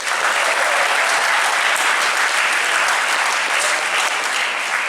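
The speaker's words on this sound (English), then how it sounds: "give them a round of applause" Loud, dense applause from a large crowd at a high school athletic awards ceremony fills the whole stretch, steady and unbroken with no talking.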